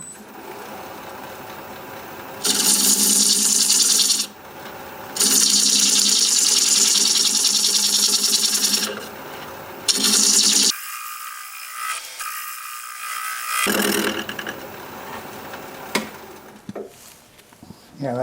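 A holly bowl spins on a wood lathe while a tool thins its edge, giving bursts of loud hissing, scraping cuts separated by quieter stretches where the motor hums alone.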